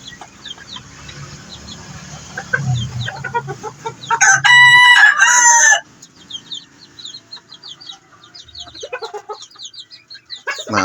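A red junglefowl (labuyo) rooster crows once loudly and nearby in a harmonic, stepped call lasting over a second, amid softer clucks and chirps from other fowl before and after.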